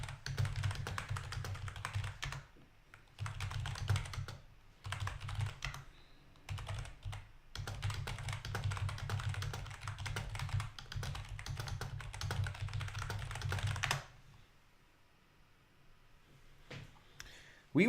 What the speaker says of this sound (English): My apologies for typing into the microphone.